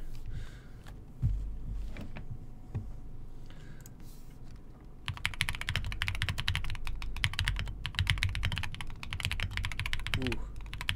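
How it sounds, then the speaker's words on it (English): Typing on a computer keyboard laid flat without stands: sparse clicks at first, then fast continuous keystrokes close to the microphone with a low background hum. "Unfortunately, this keyboard does not have stands, so I will have to use it flat."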